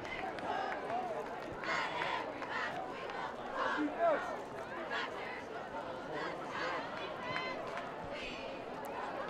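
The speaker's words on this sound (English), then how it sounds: "The pep band, the crowd's going wild." A high school football crowd at an Eaglecrest versus Rangeview game roars in a steady, distant wash of cheering and shouting, with a pep band nearby and an announcer talking over it.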